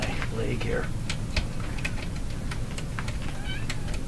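A house cat meows several times in short, rising calls close by, mixed with light ticking and clicking handling noises and a steady low background hum.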